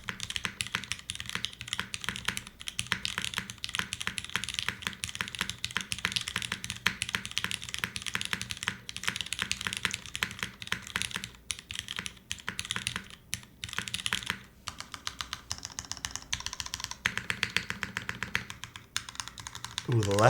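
Steady, fast typing on a Monokei x TGR Tomo mechanical keyboard, with dense rapid clacks and occasional heavier spacebar thocks running continuously for twenty seconds, close and crisp, with brief pauses near the end.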